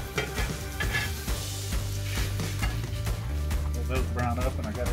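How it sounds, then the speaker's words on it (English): Hash browns browning on a flat-top grill with a steady, dense sizzle and frying crackle throughout, close and loud, with faint utensil stirring scrapes. "Got my hash brown. Now they're browning up."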